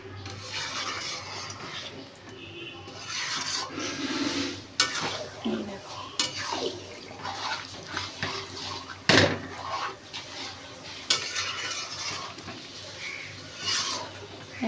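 Mutton curry is stirred in a pot, with repeated scraping and clinks of a spoon against metal over a low background hiss and occasional louder knocks.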